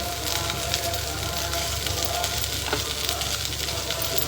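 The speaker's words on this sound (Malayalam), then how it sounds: "നമ്മുടെ ചെമ്മീനൊക്കെ നന്നായിട്ട് ഫ്രൈ ആയി വന്നിട്ടുണ്ട്" Prawns frying in a pan for chemmeen masala fry give a steady, close sizzle that runs without a break, with a faint scrape partway through and no talking.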